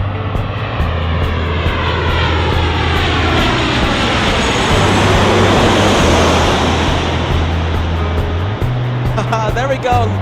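A Southwest Airlines airliner roars low overhead while landing at LAX, a loud, close jet rush swelling and then fading over about ten seconds, with a low steady hum and a voice speaking briefly near the end.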